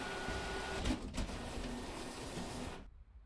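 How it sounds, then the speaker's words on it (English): A printer in the video game The Hand of Glory runs through a print job, a steady mechanical whirring hum with a couple of soft clunks, ending abruptly in silence. "I'll send the modified picture to the printer"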